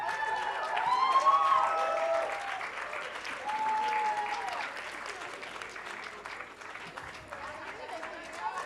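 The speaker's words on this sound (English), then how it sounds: "Guys, some applause for this team." Audience applause for a team at the grand finale of a literature festival reading challenge quiz, a crowd clapping steadily and fairly far off while a voice speaks over it, then tapering toward the end.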